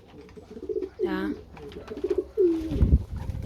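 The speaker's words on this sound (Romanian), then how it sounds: "Porumbei abia așteptă să iasă afară la zbor" Caged pigeons give throaty, rolling coos in short bursts, close by, while a person speaks briefly between calls.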